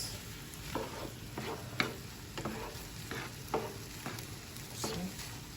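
Spaghetti sauce stirred in a frying pan, a steady low sizzle broken by repeated scraping strokes of the spoon roughly every half second, close and moderately loud with no talking.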